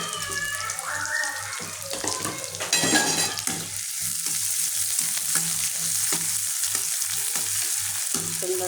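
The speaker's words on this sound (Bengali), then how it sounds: "এখন আমরা মরিচ দিয়ে দেবো।" Chillies fry in hot oil with a loud, continuous, close sizzle and crackle. A brief burst of sharper spitting comes near the start, then a steady hiss continues to the end.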